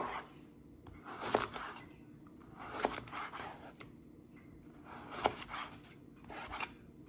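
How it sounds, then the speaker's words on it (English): A knife slices cucumbers on a cutting board in quick clusters of crisp strokes, each burst ending in a sharp tap on the board, close and fairly quiet, with no talking. "got all the cucumbers sliced and put here"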